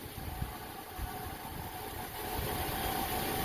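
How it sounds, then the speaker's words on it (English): A 2005 Mini Cooper engine idles steadily with a misfire on cylinder 3, a low, faint, continuous rumble with a slightly uneven pulse and no voices. "So this is misfiring, cylinder 2 is misfiring, but which is actually 3 on here."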